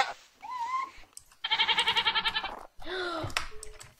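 A Minecraft goat gives a loud, wavering bleat up close between other short vocal calls, in a busy, clear stretch without talk.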